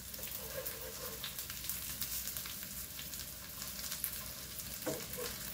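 Fish pan-fries in hot oil, producing a continuous close crackling sizzle with occasional sharper pops and spatters, moderately quiet and steady throughout with no speech.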